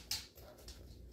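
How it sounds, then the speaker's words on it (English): A pet dog gives a brief whimper close by indoors, a short high whine lasting about a second. "Sorry, that was my dog."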